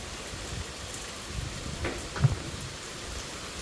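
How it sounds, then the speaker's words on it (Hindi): Steady rain falls on a cool day and pours in indoors, a continuous soft hiss of drops with a faint low patter and one brief louder knock partway through, and no voices. "ये देखो बारिश कहाँ तक आ रही है"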